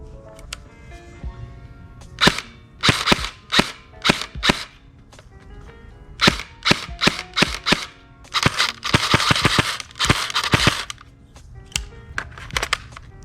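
Rapid cracking shots from a G&G SSG1 airsoft gun with a Raider 2 trigger, fired in quick bursts and single pops, sharp and close, with mechanical clicks between volleys.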